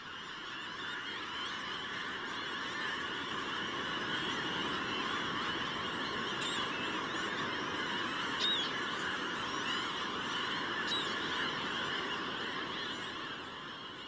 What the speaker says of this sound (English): thousands of migrating francolin gulls rest, where the Rio Copalita meets the Pacific Ocean.